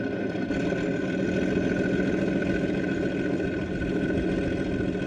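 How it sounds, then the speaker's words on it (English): A 5 inch gauge Class 37 model locomotive with DCC sound runs at full throttle, giving a steady, loud diesel engine drone with a buzzing, throbbing texture, continuous and unbroken. "the loco buzzing along at full throttle."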